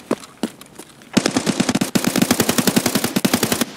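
A few scattered shots, then rapid automatic gunfire rattles in fast bursts in Escape From Tarkov, loud and close, continuing to the end.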